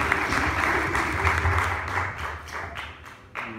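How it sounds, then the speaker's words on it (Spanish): Lecture audience in a Spanish casino hall gives sustained applause, dense steady clapping throughout that thins near the end. "aplauso."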